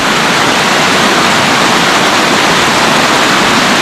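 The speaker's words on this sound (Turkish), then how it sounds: "Bu da gözelerden gelen su" Spring-fed water rushes steadily through a stream running past a mountain village in İspir, Erzurum, a loud, dense, unbroken wash of flowing water close by with no voices.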